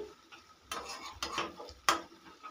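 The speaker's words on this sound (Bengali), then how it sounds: "ভালো করে গোলমরিচ গুঁড়োটাকে মিশিয়ে নেবো আগে।" Long bean and potato curry with pepper powder being stirred in a pan, with a few sharp scraping strokes and a soft sizzle between them, close and moderately loud, no talking.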